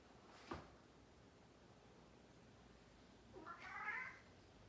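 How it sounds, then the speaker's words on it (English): A cat meows once, faint and drawn out, in a quiet room with steady background hiss, after a single soft knock earlier on. "that's my cat, he's getting a little feisty over there."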